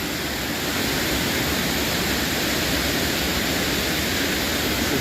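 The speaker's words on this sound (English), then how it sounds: "This is the Oneida waterfall." Oneida Falls in Ricketts Glen State Park pours in a steady, dense roar of falling water, constant and fairly close, with no voices over it.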